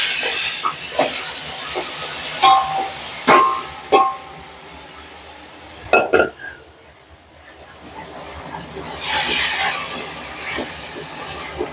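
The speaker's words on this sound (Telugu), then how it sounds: "ఇప్పుడు చికెన్ వేస్తున్నాను ఫ్రెండ్స్." Chicken going into a hot chicken biryani pot gives a steady sizzling hiss with scattered clinks and knocks, the hiss swelling again toward the end, while a voice talks over it.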